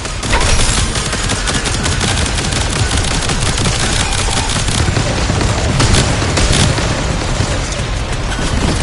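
Dense, continuous gunfire and explosions from the video game Warframe, with rapid overlapping shots and booms forming a loud, unbroken barrage with no pauses.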